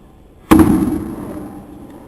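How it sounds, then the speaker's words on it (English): A single sharp bang after a moment of quiet, followed by a ringing, metallic decay that fades over about a second and a half. "The explosion causes the canister to rise"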